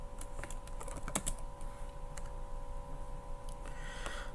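Fingers type on a computer keyboard, with light clicks scattered through the clip and a quicker burst of keystrokes near the middle, all over a steady electrical hum.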